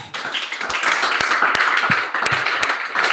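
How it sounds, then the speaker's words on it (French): Church congregation applauding the Lord during a French-language sermon, a steady wash of many hands clapping, dense and continuous with a few sharper claps standing out, fairly close and filling the room. "Applaudissez le Seigneur de gloire."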